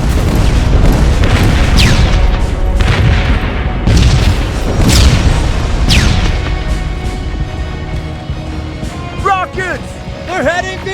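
Rocket explosions in the video game Terminator Resistance, a run of heavy booms and blasts with rumbling bursts spread across the scene, loud and close, with voices heard over the battle noise.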